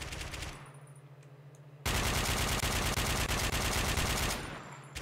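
An AK rifle fires a sustained automatic burst in the video game Warmode, loud rapid gunfire lasting a few seconds, preceded by quieter in-game noise.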